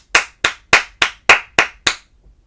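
Seven evenly spaced, crisp hand claps close up, tapping out a steady rhythm in a children's rhythm-reading lesson, with no voices over them.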